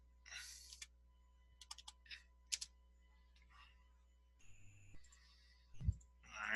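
Keystrokes on a computer keyboard while a value is entered in drafting software: quiet, scattered clicks in short bursts with pauses between, over a faint steady hum, then a dull thump near the end.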